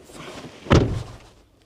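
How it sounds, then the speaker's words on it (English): Side or rear door of a Peugeot Boxer / Citroen Relay / Fiat Ducato van shut once with a single solid thunk, close by and brief, fading quickly into quiet. "so I will shut the door"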